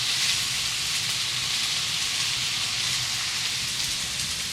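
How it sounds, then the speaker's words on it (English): Raw chicken pieces dropped into a hot soup pot for matzo ball soup sizzle and crackle steadily, a continuous hissy frying sound at moderate level with no talk over it. "you can hear the sizzle in that one too"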